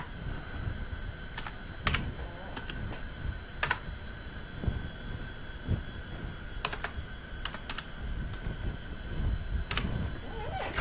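Typing on a computer keyboard in a carpentry workshop, scattered sharp key clicks over a steady low background hum, some closer and louder than others, without speech.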